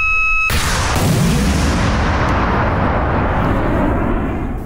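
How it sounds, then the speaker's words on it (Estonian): A Mistral missile fires during a live-fire military exercise, opening with a sudden loud blast after a brief tone, then a long roaring rush that slowly fades over several seconds, with no talk. "Täna lasime siin Mistrali raketti."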